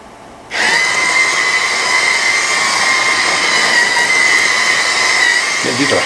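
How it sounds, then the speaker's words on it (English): High-torque motors of a joystick-driven robot rover turning tank-style in place on carpet: a loud, steady electric whine with a mechanical hum that starts abruptly and holds almost unchanged for several seconds. "these are high torque motors,"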